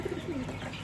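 Domestic pigeons kept as backyard pets coo softly in a few low, rounded notes, close by and alone with no talk over them.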